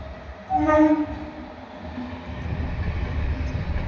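A passenger train rumbles past close by, a horn-like tone sounding briefly near the start before the steady low clatter of wagons builds and continues.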